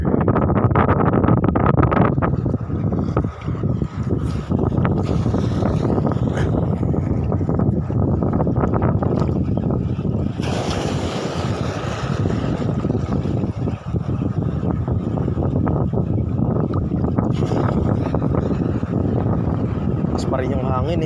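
Strong wind buffets the microphone at the shoreline during shore casting for fish in the Philippines, a loud continuous roar with gusts throughout, while a voice talks intermittently beneath it.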